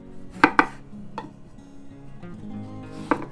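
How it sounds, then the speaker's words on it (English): A knife slicing into oranges on a cutting board, two quick sharp cuts close together, then softer taps and a final cut, close and clear with no talking. "I'm going to cut up 2 oranges"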